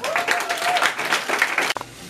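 Audience applause at a creative contest event, a dense burst of clapping from a crowd that stops abruptly after under two seconds, with a faint voice underneath.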